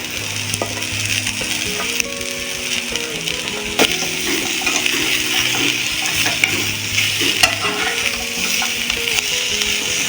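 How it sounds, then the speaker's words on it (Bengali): Vegetables frying in a pan as pumpkin, capsicum and beans are added, giving a continuous close sizzle with stirring and scraping clatter throughout. "সবজিটা খানিকটা ভাজা হয়ে গেছে, এবারে এই নরম সবজিগুলো দিয়ে দেবো,"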